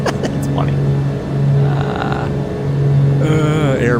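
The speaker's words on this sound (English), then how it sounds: "the engines are buzzing" Twin piston engines of a Black Square Grand Duke in Microsoft Flight Simulator give a steady, loud buzzing drone throughout, with a harmonic hum that swells and eases slightly and some higher tonal sweeps near the end.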